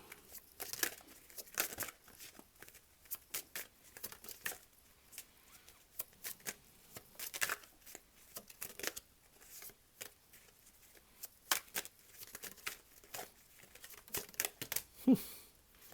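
Tarot cards being shuffled and drawn make crisp, irregular flicks and slaps in scattered bursts, fairly close, with quiet gaps between and no talking.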